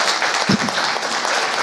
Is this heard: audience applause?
yes